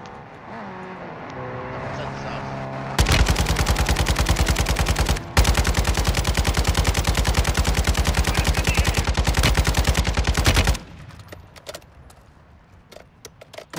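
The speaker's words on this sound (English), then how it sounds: "Gunfire, I hear." Rapid automatic gunfire rattles in Call of Duty: Modern Warfare II as a loud, sustained burst lasting several seconds, broken by one short pause. Quieter game sounds come before and after it.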